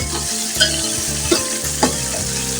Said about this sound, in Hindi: देखिए तकरीबन हमारे टमाटर भून चुके हैं।